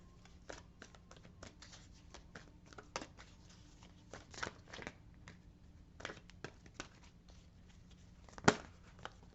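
Cards are shuffled in quick, uneven riffles and soft slaps, faint and close, with occasional louder clicks against a quiet hiss.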